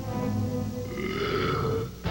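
A long, drawn-out belch rumbles on for about two seconds, loud and close, ending abruptly with a short click.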